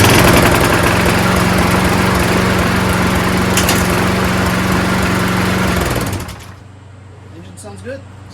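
A Craftsman self-propelled EZ Walk lawn mower with a Briggs Quantum auto-choke engine runs loud and steady close by for about six seconds, then shuts off and winds down, leaving quiet with faint handling noises.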